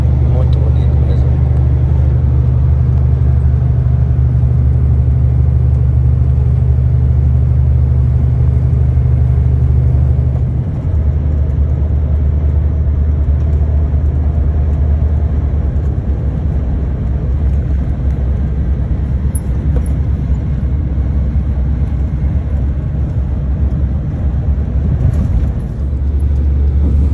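An old truck rumbles along a road in a steady, heavy low drone lasting throughout, with engine tone shifting partway as it jolts along.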